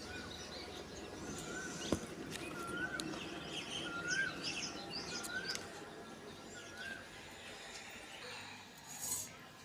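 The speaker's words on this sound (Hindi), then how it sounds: "और सुनिए आपने कोयल की आवाज़," An Asian koel calls in the morning, its repeated rising notes sounding at intervals at moderate distance over quiet outdoor ambience, with a sharp clatter near the start.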